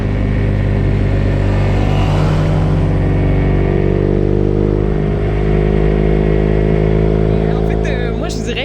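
A motorcycle on a test ride hums with a steady, loud engine drone and wind rumble throughout, while people talk over it.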